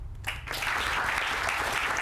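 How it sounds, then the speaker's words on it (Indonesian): An audience at an alumni sharing session bursts into applause after a short pause, with steady, dense clapping from a roomful of people that holds to the end. "tepuk tangan untuk Kak Hafiz dong."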